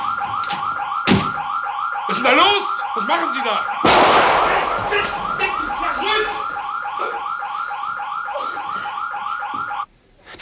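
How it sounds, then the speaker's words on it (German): In a 1980 German crime drama scene, a building alarm system wails in rapid repeating pulses throughout. German voices shout over it, a loud bang cuts in partway, and the alarm stops abruptly near the end. "Scheiße! Hab die Alarmanlage getroffen."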